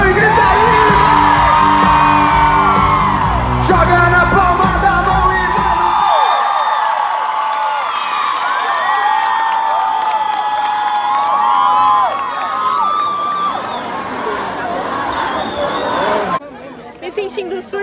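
Huge concert crowd at the opening show of a tour screams, whoops and cheers loudly and continuously, with voices shouting over the roar and a singer's amplified voice near the start.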